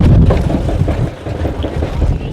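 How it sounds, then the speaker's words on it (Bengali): Strong wind buffets the microphone aboard a crowded river boat bound for Bhandarkhali in the Sundarbans, a loud continuous rumbling gust that masks any other sound. "নদীতে এত পরিমাণ হাওয়া হচ্ছে, কথা ঠিক মতন বোঝা যাবে কিনা বলতে পারছি না"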